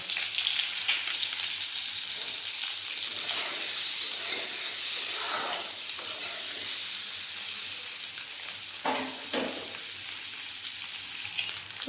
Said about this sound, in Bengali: ডিমগুলো ভালোভাবে ভেজে নিয়েছি